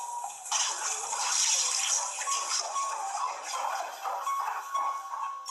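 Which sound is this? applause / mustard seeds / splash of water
splash of water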